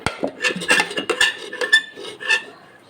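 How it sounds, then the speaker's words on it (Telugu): Cooked toor dal is mashed in a pot, heard as a quick run of close metallic clinks and knocks from a utensil against the pot, irregular and without speech. "పప్పుని మెదిపేసాను."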